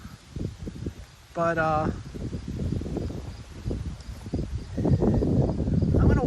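Wind buffets and rumbles steadily through a small old Baptist cemetery, with low gusty roaring close to the microphone while someone talks briefly over it.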